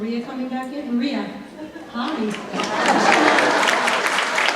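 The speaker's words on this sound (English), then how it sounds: "We'll applaud her when she comes back" A voice speaks over a quiet room at a community awards ceremony, then applause swells up from about halfway through and carries on loudly, many hands clapping together to the end.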